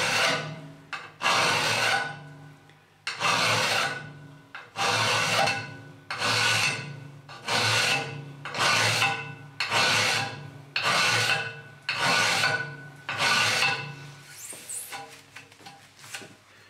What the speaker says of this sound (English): take a file, hold it at 45 degrees to the workpiece and then go across it